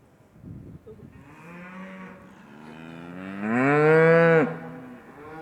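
A cow on a Tennessee farm moos in reply to a farmer's call, giving a long, rising bellow that swells loud and close before breaking off, with a softer lowing sound leading into it.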